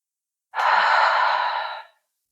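A deep, steady inhale drawn into the ribs against a band during a chest mobility exercise, close and clear for just over a second, then fading, with no talking over it.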